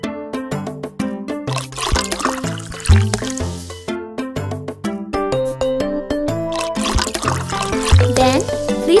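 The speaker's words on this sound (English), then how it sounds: "Then, please rinse the foam away with the water." Water rinsing foam off a puppy in a children's pet-care video game, a liquid pouring and trickling sound mixed under loud, bouncy game music.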